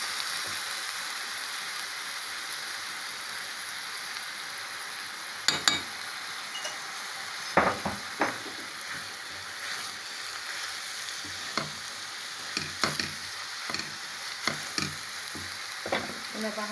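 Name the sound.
stirring and frying meat pie filling with spices in pan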